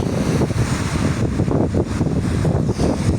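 Continuous rough low rumble of choppy Lake Ohrid water washing and lapping, mixed with steady wind buffeting the microphone, no voices.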